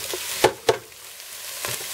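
Onion and garlic sautéing in hot olive oil in a saucepan, a soft steady sizzle with a few sharp stirring clacks near the start.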